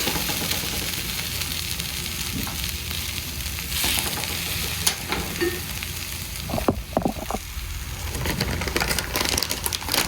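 Okra and salt fish fry in a small amount of oil, giving a constant close hiss and sizzle with a few brief scrapes and knocks from stirring partway through, no talking.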